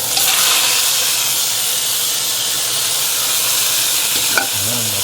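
Meat frying in a pan, a loud continuous bright sizzle and hiss, with a brief stir or clink near the end and no talking.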